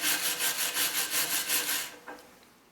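Rhythmic back-and-forth scraping strokes rasp across a smelted lead button as slag is cleared off, about eight close, even strokes followed by a faint tap.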